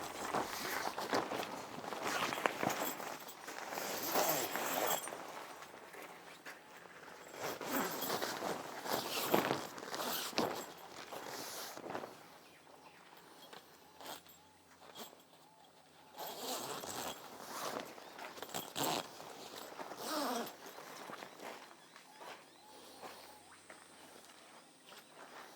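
A zipper is drawn in repeated long pulls around the sides of a 2018 Simpson Austrack camper annex, with footsteps shuffling between passes and faint insects in the background.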